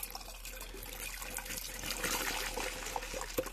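Liquid from a worm compost bin trickles steadily out of a small tap into a container, a soft continuous dribble with a brief louder splash near the end, no voices.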